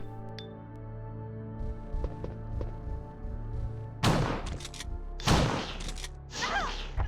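Gunshots fired at spiders in Resident Evil Director's Cut, Jill's playthrough on PS5: three or four loud, sharp blasts with ringing decay in the second half, after a quieter stretch of game ambience and soft thuds.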